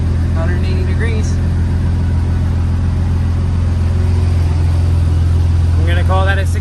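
A Mazda Miata NB with a swapped Nissan VQ V6 running steadily at idle, a loud continuous low drone filling the clip, with a few people talking over it.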